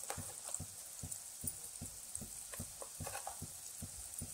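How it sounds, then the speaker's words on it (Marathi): Ground masala paste sizzling and frying in hot oil for a village-style crab curry, a soft steady crackle with rhythmic stirring thumps, close and quiet, no talk. "सर्व मसाले तेलामध्ये चांगले मिक्स करते. त्यात आपण बनवलेलं वाटण घालून घेऊ."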